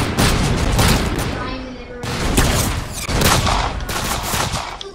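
Rockets fire in a Roblox Arsenal match as dense, overlapping booms and blasts that come in rapid succession, loud and continuous, with a voice talking over the barrage.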